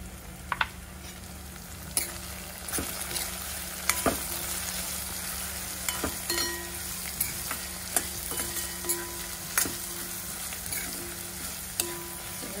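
Turmeric and salt are stirred into sizzling oil in a frying pan for sevai upma. Sharp spatula knocks against the pan ring out every second or two over a steady, close frying hiss, with no voices.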